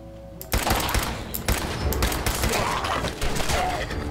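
Rapid gunfire in the video game Fallout 4: a dense, loud burst of repeated shots that starts abruptly after a quiet moment and continues steadily to the end, with sharp cracks standing out from the volley.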